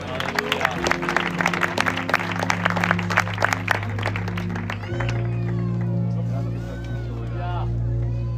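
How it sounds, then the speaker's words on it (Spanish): A congregation at an evangelical church campaign meeting breaks into rhythmic clapping, sharp repeated claps for several seconds under a sustained musical tone, then fading as crowd voices and music carry on. "Un aplauso para Dios."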